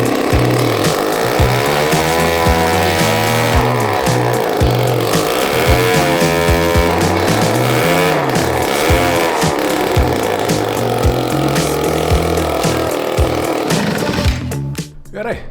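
A Benelli 491 moped's small engine runs steadily and loud throughout, revving up and down in uneven waves, with a sharp cut near the end.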